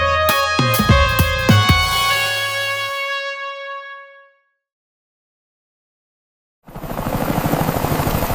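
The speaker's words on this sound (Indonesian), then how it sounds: "Berisik banget deh. Helikopternya Putri Sultan Abal-Abal" Ringing chime tones fade into silence before a helicopter bursts in, loud and close, its rotor pulsing noisily in a fast, even beat.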